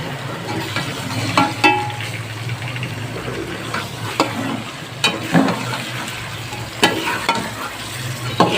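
Chicken pieces frying in a pan for chicken korma, a steady close sizzle with periodic clanks and scrapes of stirring, no talk.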